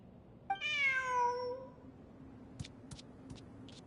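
A cat meows in the Genshin Impact video game, one clear drawn-out meow, fairly quiet and alone over a soft background hum, followed by a few faint short clicks.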